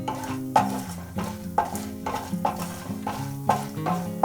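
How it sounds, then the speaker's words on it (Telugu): Ingredients frying in a pan while chitranna rice is prepared, with a soft sizzle under regular stirring strokes and clinks of a utensil against the pan, close and moderately loud. "ఇలా ఫ్రై అవుతున్నాయి కదా"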